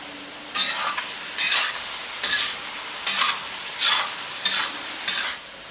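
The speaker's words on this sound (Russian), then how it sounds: "Мясо с морковкой жарилось еще минут 5" Meat with carrots frying in oil in a pan, a steady sizzle broken by about seven regular bursts of stirring scrapes, close and fairly loud, with no speech.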